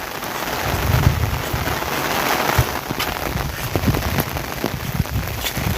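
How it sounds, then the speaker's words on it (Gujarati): Heavy rain on farm fields where cattle are being herded, a close, steady patter of drops on surfaces with scattered low thuds and heavier splashes throughout. "વરસાદ પાછો ચાલુ."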